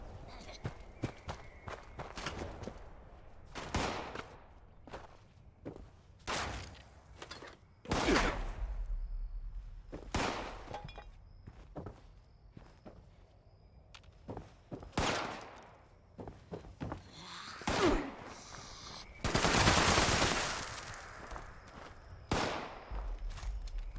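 Intermittent gunfire in Fallout 76: sharp single shots and short bursts spaced irregularly over about twenty-four seconds. Quiet stretches and soft footstep-like sounds fall between the shots, and a louder, fuller burst comes near the end.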